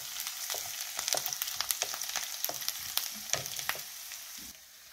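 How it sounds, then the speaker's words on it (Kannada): Mustard seeds and garlic fry in hot oil for a sorrel-leaf chutney, giving a close, continuous sizzle dotted with sharp crackling pops and stirring clatter, with no talk. "ಅದಕ್ಕೆ ಒಂಚೂರು ಸಾಸಿವೆ ಕಾಳು ಹಾಕ್ಕೊಳ್ವ, ಒಂಚೂರು ಬೆಳ್ಳುಳ್ಳಿ ಹಾಕ್ಕೊಳ್ವ. ಇದು ಹುರಿಯುವಾಗ ಈ ಚಟ್ನಿ ಅದಕ್ಕೆ ಹಾಕಿಬಿಡುವ."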